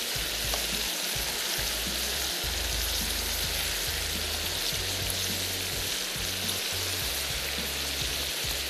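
Chicken fries in a hot pan with a dense, continuous sizzle and crackle throughout, close up, with faint low knocks and no speaking.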